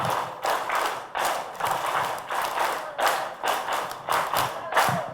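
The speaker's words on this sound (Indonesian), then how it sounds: "Kalau tepuk 5 kanan 2 kali kiri 2 kali atas 1 kali." A group claps in unison in the 'tepuk 5' pattern at an Islamic organisation training gathering, with bursts of sharp claps repeating in a steady rhythm, loud and close across the room.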